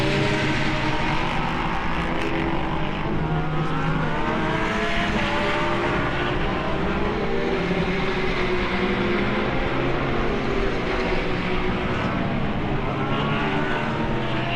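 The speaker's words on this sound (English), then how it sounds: "Here you see the difference between two very different models. One is the Lamborghini Super Trofeo and the other one the Praga R1." Lamborghini Super Trofeo and Praga R1 race cars circle the Autodrom Most track during a GT Cup Series race, their engines a constant loud roar with rising and falling pitch as they pass, no voices.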